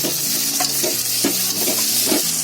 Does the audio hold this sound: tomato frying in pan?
yes